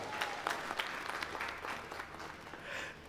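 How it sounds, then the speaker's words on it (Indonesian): An audience at a school character-education event applauds together, a fairly quiet, lively patter of many hands with scattered sharper claps standing out, continuing evenly without speech. "Tepuk tangan untuk kita semua."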